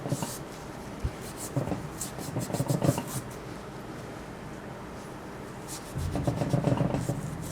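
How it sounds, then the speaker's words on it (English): Scraping of a tool over the varnished oil control ring land of a 1994 Saab 9000 piston, rough rasping strokes in short bursts, close and moderately loud, with a longer stretch of scraping near the end. "let's see if we can't remove some of that varnish down on this oil control ring land"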